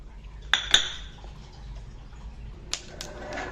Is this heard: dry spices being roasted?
yes